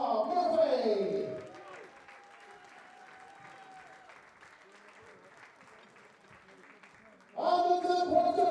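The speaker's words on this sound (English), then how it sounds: "so a massive round of applause for Paula Murphy." Loud applause at a darts championship bursts at the start, dies down into a quieter murmur of scattered claps, then surges back strongly near the end.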